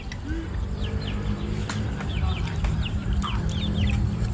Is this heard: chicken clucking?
yes